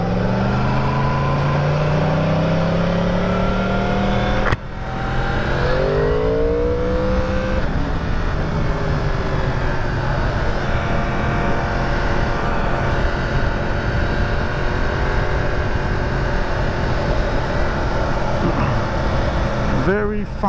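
A Yamaha R1 superbike roars continuously on a road commute, its engine revving and shifting gears with rising and falling pitch, loud and close under heavy wind rush.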